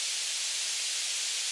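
Steady broadband white noise passed through a filter plugin, a constant hiss with no low end, holding evenly throughout.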